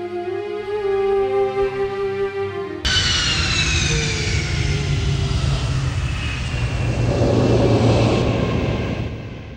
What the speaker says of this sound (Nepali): प्लेन ल्यान्ड भयो होइन?